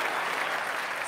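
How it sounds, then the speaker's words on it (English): Audience applause at a comedy roast, a dense, even burst of crowd clapping over one short second with no voices standing out. "applause for Snoop"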